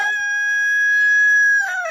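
A rooster crows at dawn in a village with one long, loud, sustained call that holds steady for over a second and then breaks off, heard close.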